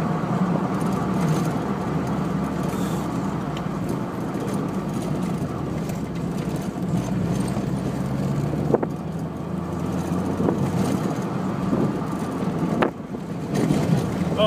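A steady rumble of a car driving along a road, heard from inside, with constant engine and tyre noise throughout and occasional bumps.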